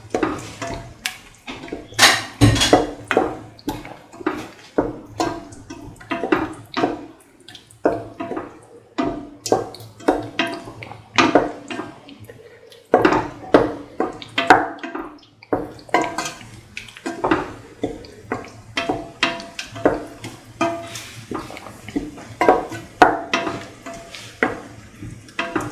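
A spoon stirs cooked lentils with tomatoes and onion in a metal pot, making repeated scraping and clinking knocks in an uneven rhythm, close and clear, with no talk.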